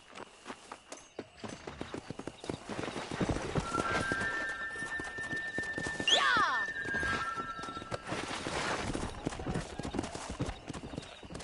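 Horse hooves clip-clop steadily while riding in the Western video game Red Dead Redemption, with a brief whinny midway and game ambience around the trotting rhythm; no one talks over it.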